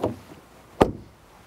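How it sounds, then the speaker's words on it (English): A single solid thud as a Skoda Octavia RS iV plug-in hybrid's door shuts, close by and short, preceded by a faint softer knock and followed by quiet. "First of all, door closing sound."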